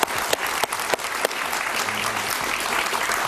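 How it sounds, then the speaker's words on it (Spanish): A studio audience at a televised interview bursts into applause, a few sharp claps at first then a steady, fairly loud wash of clapping that sustains to the end, with a faint voice underneath. "Un aplauso para el presidente Uribe."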